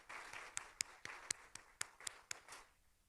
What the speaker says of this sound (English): It feels good to hear the applause again.